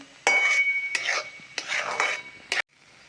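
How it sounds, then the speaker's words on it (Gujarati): A spoon stirs suji halwa (semolina sheera) in a pan, making four or five brisk scraping strokes with short pauses between them. The scraping is close and clear, with no voices. "આ રીતે સરસ એવું મિક્સ કરી દઈશું."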